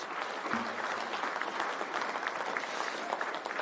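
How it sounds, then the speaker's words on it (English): An audience applauds the judges continuously at an innovation awards evening, a steady wash of many hands clapping, heard from a short distance and moderately loud. "So what about a round of applause for all of the judges?"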